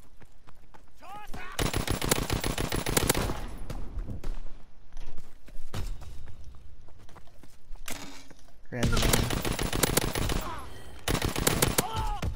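NZ41 gunfire in a first-person shooter game, loud rapid automatic bursts in two long volleys with quieter shots and movement between them, close and dominant over occasional talk.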